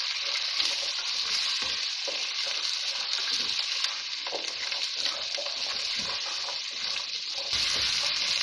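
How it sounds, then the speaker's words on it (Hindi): French beans, carrots and peas fry in a pan for a dhaba-style mixed veg masala: an even, dense sizzling hiss throughout, broken by rattling scrapes as the vegetables are tossed. "बस 2 मिनट के लिए इसको फ्राई करना है"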